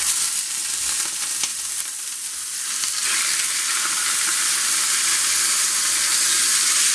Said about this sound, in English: Olive oil, we need to cook fast the salmon from two sides